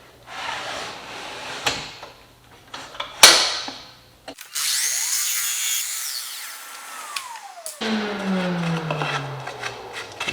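A power miter saw cutting crown molding, spinning up to a loud whining buzz as the blade passes through the wood, then winding down, with clunks and handling noises around the cut.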